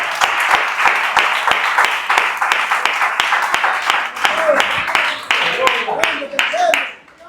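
Loud, dense applause from a church congregation, continuous rhythmic clapping filling the space, with a few voices calling out near the end.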